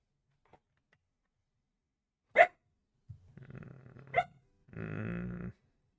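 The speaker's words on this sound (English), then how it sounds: "Please don't bark at me." A dog barks indoors in a few separate sharp yelps, followed by a short growl and a longer whiny vocalization, close and fairly loud against a quiet room.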